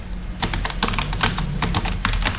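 Rapid keystrokes clatter on a computer keyboard as a value is entered, irregular crisp taps close up with no talking.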